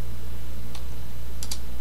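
Computer keyboard keys pressed in a few quick, distinct clicks over a steady low hum, close and clear with no talk.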